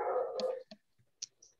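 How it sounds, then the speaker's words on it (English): A dog howls and whimpers in the background during an online poker final table, one drawn-out cry followed by a few faint short sounds. "No, I hear a dog."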